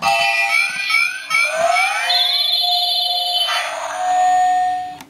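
A loud, piercing electronic sound effect from a bootleg Kamen Rider W Double Driver toy transformation belt, with sweeping siren-like tones and rising pitches, continuous for about five seconds before cutting off.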